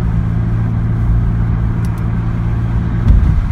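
A naturally aspirated Toyota Supra MK4 engine held at steady revs with the accelerator fixed, a loud, close, even drone with a brief surge near the end.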